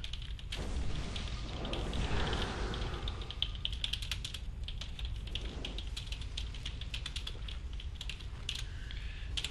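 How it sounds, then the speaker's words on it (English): Steady, rapid keyboard typing with a continuous patter of clicky keystrokes throughout, fairly close and moderately loud. "Oh god, I'm gonna have to start typing shit."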